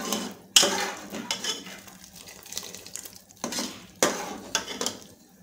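Spoon stirring chicken soup thickened with cornflour in a pot, a few sharp scrapes and clinks against the metal amid soft sloshing, close by with no talking.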